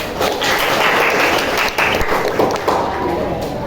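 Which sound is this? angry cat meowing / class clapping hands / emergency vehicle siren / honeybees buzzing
class clapping hands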